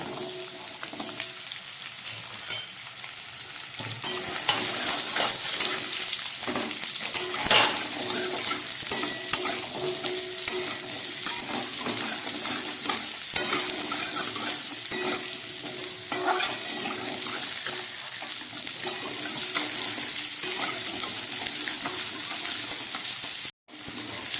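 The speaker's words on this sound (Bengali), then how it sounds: "এর ভেতরে আমি আলু আর কুমড়োটাকে ভালো করে ভেজে নেব" Pumpkin and potato fry in a pan under a steady, close sizzle, with repeated scraping and stirring strokes and occasional louder clatters across a long stretch free of speech.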